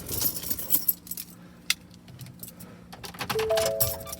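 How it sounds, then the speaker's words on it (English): Car keys jangle and clink close by as they are handled and put into the ignition of a 2017 Ford F350 Super Duty dually with a 6.7L engine, with a short electronic chime near the end. "it's not gonna turn on until I put the keys in it"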